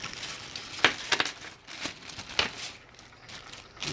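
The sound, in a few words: candy being put into a plastic bag, crinkling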